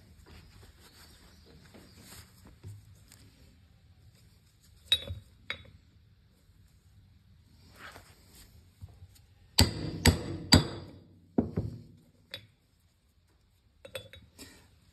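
A PTO seal for a Nuffield or Leyland tractor is driven into its housing with a homemade mandrel: scattered sharp metallic hammer blows, some single and some in quick clusters, with quiet gaps between them.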